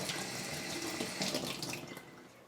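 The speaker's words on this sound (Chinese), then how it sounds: "再洗2个青柠檬。" Two limes washed by hand under a running kitchen tap, a steady splashing stream of water broken by brief rubbing and sloshing as the fruit is turned, close and fairly quiet, no voices.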